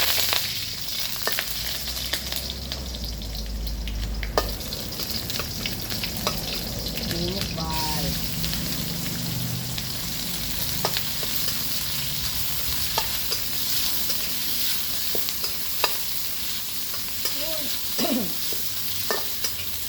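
Crushed unpeeled garlic and pork fry in hot oil in a pan, giving a continuous sizzle broken by scraping, clinking stirs of the spatula throughout. It is close and steady, with no talk.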